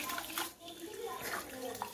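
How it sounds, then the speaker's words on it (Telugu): Rice being washed by hand in water gives faint, soft splashing and sloshing in a domestic setting, with voices talking quietly over it. "మూడు 4 సార్లు విసికి కడుగుతాను అంటే బియ్యం నేను."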